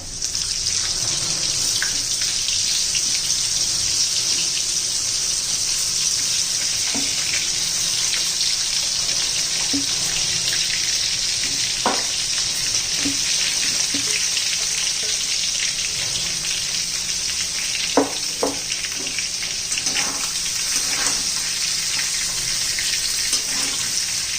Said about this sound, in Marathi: आता कढीपत्ता घालूया, हिंग घालू.